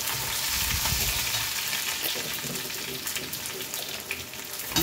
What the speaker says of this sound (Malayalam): ഇനി രണ്ട് പച്ചമുളക് കീറി വച്ചിട്ടില്ലേ, അതിടാം.